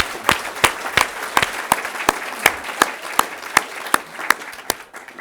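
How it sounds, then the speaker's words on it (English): Scattered applause from a small audience at a New Zealand open source awards event, with sharp individual claps in an uneven rhythm rather than a dense roar, tapering off near the end. "Yes, big round of applause"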